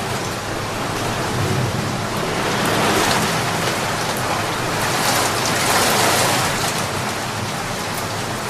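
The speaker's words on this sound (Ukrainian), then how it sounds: "Це звуки весняного дощу." Steady, dense spring rainfall patters down close by, a continuous hiss of drops with gentle swells in intensity and no voices.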